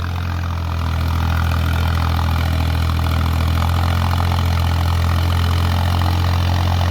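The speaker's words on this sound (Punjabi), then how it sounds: "ਕੱਦੂ ਕਰੇ ਝੋਨੇ ਦੇ ਵਿੱਚ ਟਰੈਕਟਰ ਤੋੜਨਾ ਬੜਾ ਔਖਾ ਹੈ" A tractor engine runs steadily while puddling a flooded paddy field for rice, a loud, continuous low rumble with a constant drone that never lets up.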